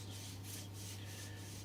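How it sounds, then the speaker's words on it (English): Gentle sanding over a paint run in brushed-on coach enamel on an Armortek Series 1 Land Rover model, a steady soft rubbing scrape with slow rhythmic strokes, close and quiet, alone with no talk. "just very gently over where the run is, just sanding it back"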